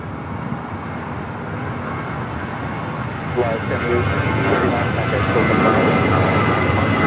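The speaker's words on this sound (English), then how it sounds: "Just had a United 737 at 900 ER coming in from Dulles, just touching down here on the south side." A United Boeing 737-900ER jet touches down on an airport runway with a sustained loud engine roar that swells toward the end, while a voice talks over it.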